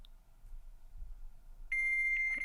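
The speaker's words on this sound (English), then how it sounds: "it's someone's fax machine" A fax machine answers a phone call to a 1-800 number on speakerphone: after a quiet, hissy line, a steady high electronic tone starts abruptly partway through and holds loud and unbroken to the end.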